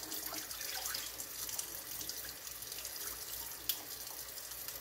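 Cold rinse water is poured off freshly made butter on a farm, a steady, soft splashing and trickling of liquid throughout, with no talking.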